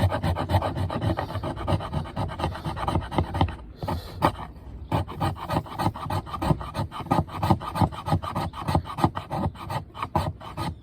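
Wood is scraped into shavings for fire tinder, a blade rasping in quick repeated strokes up close, with a short pause partway before the rhythmic scraping resumes.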